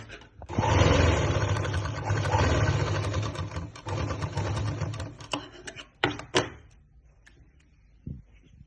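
Sewing machine stitching a belt onto a lehenga: a steady whirring run of about five seconds, then short stop-start bursts and clicks, close and moderately loud.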